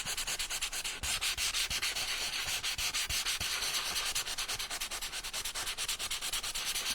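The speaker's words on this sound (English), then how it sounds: "we're just going to very lightly sand it" Fine sandpaper rubs lightly over a quilted fabric junk journal cover in quick, even back-and-forth strokes, making a close, continuous scratchy hiss with no voices.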